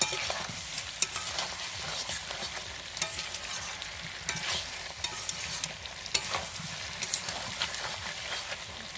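Meat frying in oil for a village-style chicken curry with potatoes is stirred steadily, a constant dense sizzle with scattered scraping clicks of the spoon, close and even throughout, no talk.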